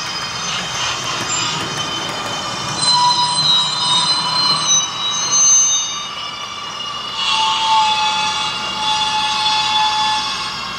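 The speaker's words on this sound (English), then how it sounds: "So now the engine is basically braking and it's going to come to a stop." A Bachmann HO scale Siemens ACS-64 model locomotive brakes to a stop, giving a steady electric whine and hum with high tonal squeals. The sound holds at a constant level throughout and rises a little in the middle.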